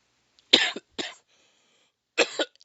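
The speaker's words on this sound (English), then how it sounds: "I do get a couple coughs from here and there." Three short, sharp coughs from a man nursing a cold, two close together then one more after a pause, loud and near with no talk over them.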